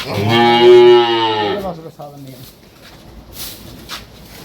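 A Holstein Friesian dairy cow or calf at a cattle market lets out one loud, close, drawn-out moo, followed by quieter background noise.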